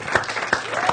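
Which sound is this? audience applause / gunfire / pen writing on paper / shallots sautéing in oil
audience applause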